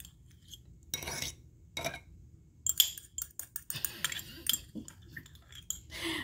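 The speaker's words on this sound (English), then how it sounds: "Sorry for the scraping. I'm just trying to get it all out." A spoon scrapes and clinks against a jar, digging out the last of some Dijon mustard in a series of quick, close metallic scrapes and taps.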